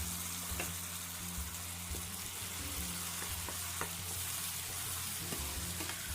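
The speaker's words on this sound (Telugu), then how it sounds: "క్యాప్సికమ్ టమాటా పేస్ట్ రెండు వేసి బాగా కలిపి ఒక రెండు నిమిషాల పాటు ఫ్రై చేసుకోవాలి" Capsicum and tomato paste fry and get stirred in a pan for an egg and cauliflower masala, with a continuous loud sizzle and regular spoon scrapes and taps against the pan throughout, no voices.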